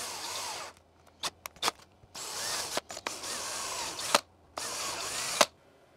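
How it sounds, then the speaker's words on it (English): A power drill with a 3.5mm bit drills through a part for a QIDI Q1 Pro 3D printer, whining in several bursts, long runs broken by short stops and quick trigger blips, close and loud with no talking. "And we can drill the rest of the way through."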